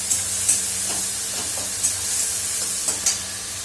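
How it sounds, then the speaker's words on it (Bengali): Food frying in a pan, a loud continuous sizzle with hissing spatter and a few sharper pops scattered through, close and steady with no voices. "দেখতে পাচ্ছেন, এই তো বেশ ভাজা ভাজা হচ্ছে।"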